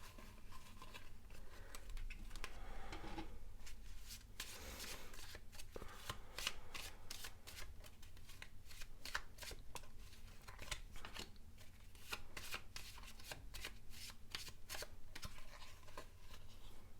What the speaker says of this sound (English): I will just shuffle the tarot deck.